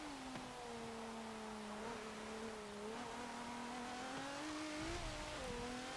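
An all-wheel-drive 2015 Audi S1 engine in the racing game Forza Motorsport 7 holds a steady, fairly loud tone, rising and dipping gently in pitch as the car accelerates and eases off through corners, with no talk.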